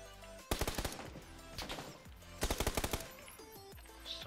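Two rapid bursts of automatic gunfire in the battle-royale game PUBG, each a quick rattling volley of sharp cracks, separated by a short lull and followed by fainter scattered shots.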